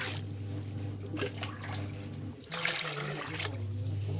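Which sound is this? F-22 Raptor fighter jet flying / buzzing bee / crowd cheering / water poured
water poured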